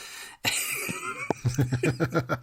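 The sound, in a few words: coughing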